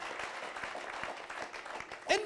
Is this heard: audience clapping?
yes